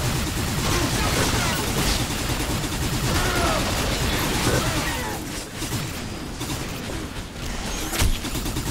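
Gunfire from a weapon in the video game Hard Reset, a dense, continuous barrage of rapid mechanical shots and clatter that stays loud throughout with a brief lull near the end.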